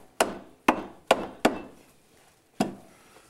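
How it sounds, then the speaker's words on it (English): Galvanized inch-and-a-half nails are hammered through 2-inch steel joist hangers into full-dimension existing timber joists. There are five sharp, close hammer blows: four come in quick succession and one more lands after a short pause, each with a brief ringing decay. "we're simply attaching joist hangers, 2-inch joist hangers, to the existing timbers"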